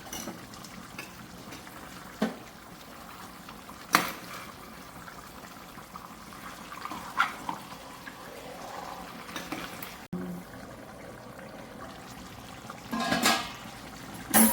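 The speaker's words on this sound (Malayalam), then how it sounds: "ചിക്കനൊന്ന് നമുക്കൊന്ന് ഇളക്കി കൊടുക്കാം" Chicken curry cooked with coconut milk is stirred in a pot, giving a soft, continuous bubbling and slosh of liquid broken by a few brief scrapes and taps of the spoon against the pot, close by and without speech.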